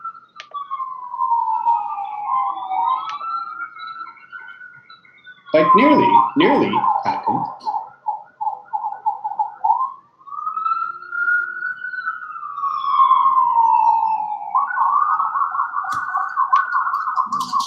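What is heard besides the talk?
sirens of ambulances and fire trucks going past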